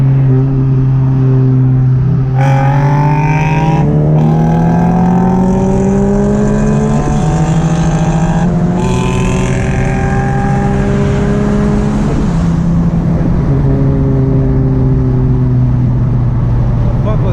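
A 10th gen Honda Civic Si accelerating hard through the gears on a pull, the engine note climbing repeatedly with brief shift breaks, loud and close from inside the car, with wind roar.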